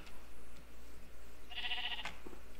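A sheep in Minecraft running a realistic shader and resource pack gives one short, nasal bleat at close range over a faint steady hum, with no talking.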